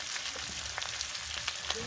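Pork frying in a pan gives a steady, soft sizzle with scattered small pops and crackles throughout, close by and without talk.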